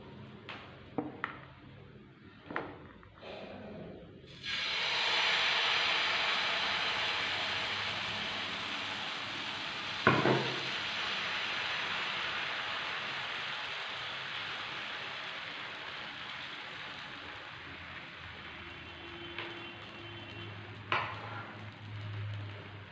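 Wheat dosa batter cooks on a hot non-stick pan over medium-low flame, a steady soft sizzle that swells after a few clicks and scrapes, with occasional sharper scraping sounds over the frying hiss.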